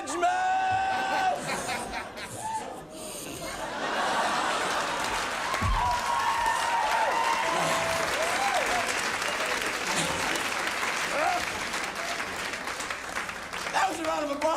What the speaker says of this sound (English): That was a round of applause